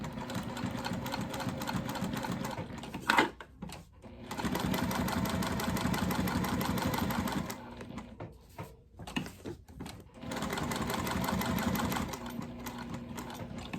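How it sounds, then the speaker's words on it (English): A sewing machine with a size 16 needle stitches a wallet ID window in thick thread, running in steady motor bursts of several seconds, broken by short pauses and faint handling knocks. "So I'm gonna start by sewing in my ID window"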